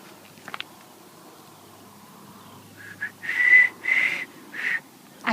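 Someone whistles a few short, breathy bird-like calls in a quiet outdoor setting on a nature walk, imitating two birds. Four or five bursts come close together near the end after a faint earlier chirp.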